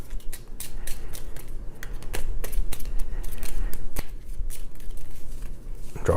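Cards for the Tanto Cuore: Winter Romance board game being shuffled by hand, a close run of crisp riffling and snapping bursts with short pauses between them.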